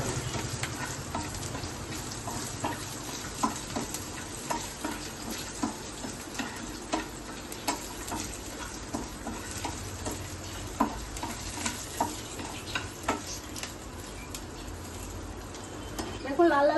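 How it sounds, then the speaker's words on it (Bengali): Garlic and dried red chillies frying in hot oil, a steady soft sizzle punctuated by regular ticking taps of a spatula against the pan, fairly quiet and close. "এটা একটু লাল লাল করে ভাজা হয়ে গেলে এটাকে আমরা তুলে দেবো।"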